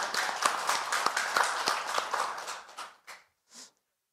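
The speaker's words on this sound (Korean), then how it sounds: "다시 한번 우리 김재남 의원님께 박수 한번" An audience at a policy forum applauds a lawmaker with dense, rhythmic clapping from many hands that tapers off, ending in a few scattered final claps.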